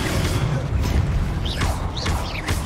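A Confringo fire spell bursts in the Hogwarts Legacy video game, a dense roaring blast layered with whooshing, rising and falling magical swishes over a rumbling low end, loud and close.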